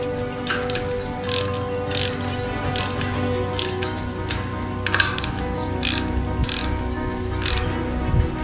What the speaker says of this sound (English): let's apply a little bit of torque to them